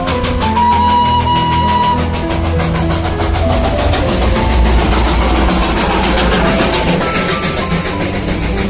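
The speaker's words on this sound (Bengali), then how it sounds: "কয়লার ইঞ্জিন।" A Darjeeling toy train hauled by a coal-fired steam engine rumbles past up close, with loud continuous chugging, hissing and rhythmic wheel clatter over the rails and no voices.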